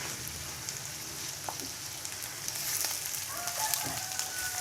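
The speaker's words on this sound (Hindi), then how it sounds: "इसको मैं सौते करूँगा तो ये कलर इसका चेंज हो जाएगा" Hand-minced chicken keema sautés in a pan with a steady, soft sizzle and scattered light crackles and pops, close and continuous, with no talk.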